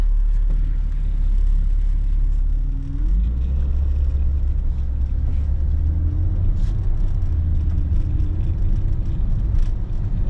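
A BMW E46 engine rumbles steadily up close as the car pulls out of a driveway after sitting parked for a year, the pitch rising and shifting as it moves off.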